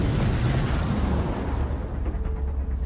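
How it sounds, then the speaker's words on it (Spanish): A powerful blast, comparable to a car bomb, goes off amid an abandoned amusement park: a loud, dense roar hits at once and then slowly thins and fades. "sería como la explosión de una autobomba, abriendo un cráter de casi 5 metros y una onda de más de 1 kilómetro"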